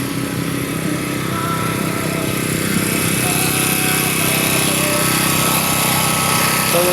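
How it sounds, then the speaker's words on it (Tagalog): A portable generator supplying electricity at a remote site far from the village drones at a steady close rumble with a constant buzzing whine, running continuously without pause. "generator lang po ang ginamit nila para sa magamit sa mga kuryente dito dahil malayo po sa baryo"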